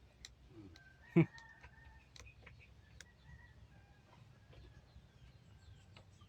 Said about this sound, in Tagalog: nangingitlog na yung manok ko